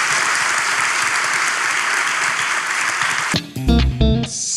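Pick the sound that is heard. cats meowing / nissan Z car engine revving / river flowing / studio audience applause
studio audience applause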